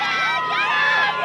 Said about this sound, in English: You can hear the crowd really getting into this one.